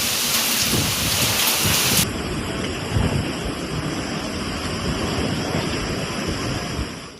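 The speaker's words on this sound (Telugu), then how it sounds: "మెదక్లో ఉరుములు, మెరుపులు, ఈదురుగాలులతో కూడిన భారీ వర్షం కురిసింది" Heavy rain pounds down in a loud, dense, unbroken roar during a thunderstorm with strong winds in Medak, Telangana, with deep rumbles of thunder beneath.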